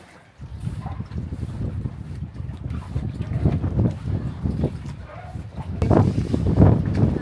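Steady gusting wind buffets the microphone, a low rumbling roar that swells louder toward the end.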